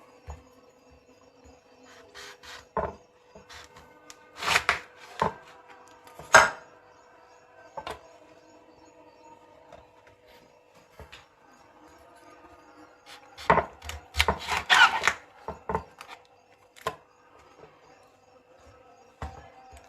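A knife cutting through passion fruit on a board, scattered sharp chops and taps, with clusters of firmer cuts near the start and again later, separated by quiet stretches.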